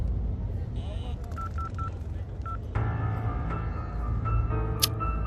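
Several short electronic keypad beeps of a phone being dialed, followed by a steadier tone, with faint background noise and voices.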